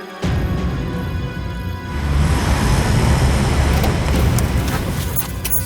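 A car turns around and drives off, its engine and road noise swelling into a steady rumble that grows louder partway through, with no talk over it.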